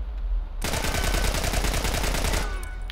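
Rapid automatic gunfire in The Last of Us Remastered, a loud sustained burst of closely spaced shots lasting about two seconds after a brief quiet lead-in, with no voices over it.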